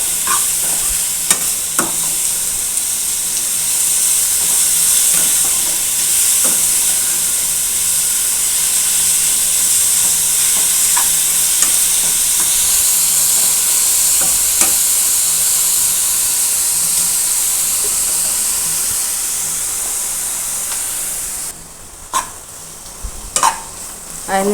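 Carrot rice stirred in a pan gives a steady hissing sizzle with scattered spoon scrapes and clicks, continuous and close, with a few sharper knocks near the end.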